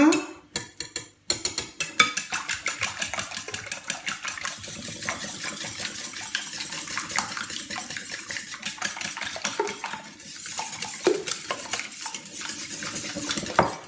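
A spoon stirs a ham, potato and shallot quiche filling in a bowl: continuous scraping and clinking against the sides with irregular rhythmic strokes, close and fairly quiet, no voices.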